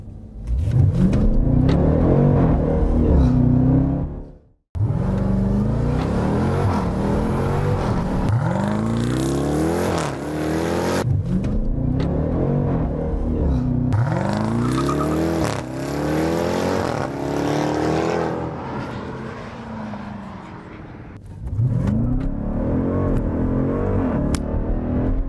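A 2018 Jeep Grand Cherokee Trackhawk launches hard, its engine roaring loudly and close through repeated rising surges as it climbs through the gears. There is one brief drop near the start, then sustained full-throttle acceleration.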